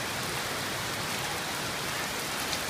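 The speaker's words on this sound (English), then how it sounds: "It's raining hard." Heavy rain pours down in a shower, a constant loud hiss of drops striking surfaces close by with no break, no voices heard.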